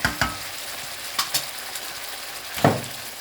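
Lamb meat frying in a kadahi, a steady sizzle broken by sharp stirring scrapes and clinks of the spoon against the metal pan, close and with no one talking.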